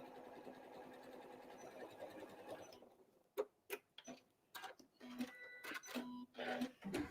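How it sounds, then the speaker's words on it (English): Sewing machine running steadily while back stitching at the end of an apron seam, then breaking into short stop-start bursts of stitching with clicks between them, fairly faint and close. "All right, gonna back stitch at the end here."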